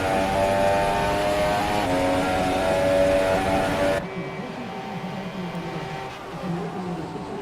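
A Haas F1 car's engine screams in a racing video game at the Japan circuit, a loud, steady high-revving whine that drops abruptly in level partway through before droning on more quietly.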